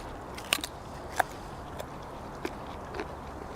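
A fresh raw carrot pulled from a backyard food forest is bitten with a few sharp crunchy snaps, then chewed quietly at close range, with no talking.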